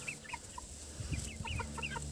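Broiler chickens kept loose around a rural house cluck in short, scattered bursts, several birds close by, faint over a quiet outdoor background.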